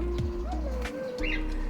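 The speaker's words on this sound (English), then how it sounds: "Oh, here's some birds. Little birds." Small birds in a cage giving short chirps and tweets amid faint background noise, with a low rumble underneath and a brief coo-like call.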